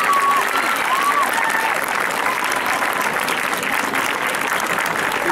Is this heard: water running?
no